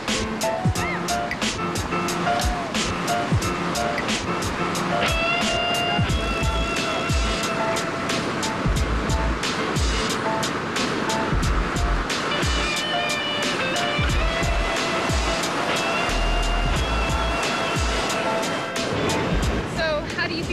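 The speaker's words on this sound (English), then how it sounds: "in his spare time, he likes to hit the waves and do some surfing" Ocean surf rolling and crashing steadily at a surf spot, a continuous wash of breaking waves under background music and voices.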